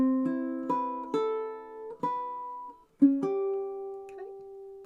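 Fingerstyle ukulele playing measure 11 of a song: a handful of plucked notes in an even, unhurried rhythm, each ringing briefly, soft and close with no talking.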